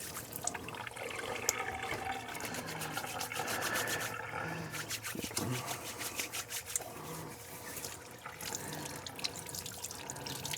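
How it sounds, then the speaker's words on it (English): A sink tap runs in a home garage as hands covered in brake fluid are washed, giving a continuous splashing, gurgling rush of water with faint voices in the background. "So I apologize if you guys hear the sink going."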